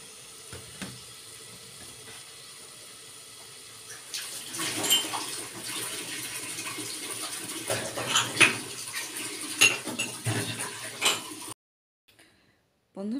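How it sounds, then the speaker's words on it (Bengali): Tap water runs and splashes while cups and dishes are washed at a household sink. Rinsing and clinking rise into a busy, close wash midway, then cut off abruptly, with a voice speaking briefly. "এখন কয়টা কাপ আছে ধুয়ে ফেলি"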